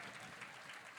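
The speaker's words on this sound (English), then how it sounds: "So fans give a round of applause to the captain here." Fans at a Bradley University versus University of Iowa hockey game clap in a brief, faint burst of scattered applause heard from a distance.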